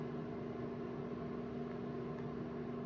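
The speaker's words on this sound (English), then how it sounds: "if you hear a noise in the background, it's just my dehydrator going" Small food dehydrator running in a home kitchen, a steady low hum with a faint fan whir, constant and unchanging in the background.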